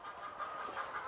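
Farm chickens in a coop cluck and murmur in a low, continuous chorus, several birds close together with overlapping soft calls and no human voices.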